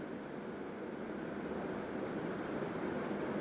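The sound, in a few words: semiya (vermicelli) boiling in water in a pan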